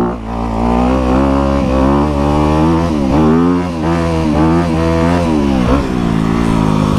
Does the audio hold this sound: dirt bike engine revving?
yes